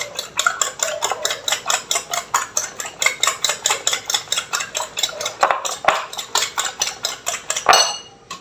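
Bitter gourd with egg is stirred in a pan, with rapid rhythmic scraping and clinking of a utensil against the pan that carries on steadily and up close.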